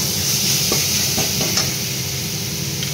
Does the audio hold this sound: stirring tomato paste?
yes